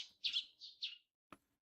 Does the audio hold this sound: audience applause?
no